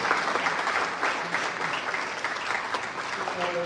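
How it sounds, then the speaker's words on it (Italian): An audience applauds steadily at a World Food Day ceremony as honored guests come onstage, a dense, sustained wash of clapping throughout. "please join us in giving a big round of applause to our heroes who are joining us in the stage"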